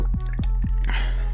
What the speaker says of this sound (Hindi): यस, नारियल पानी पी लिए।